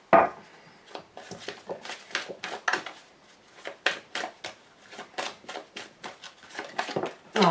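A deck of oracle cards being cut and shuffled by hand, a rapid run of crisp papery flicks and riffles at close range, steady and rhythmic across the whole stretch with no voice over it.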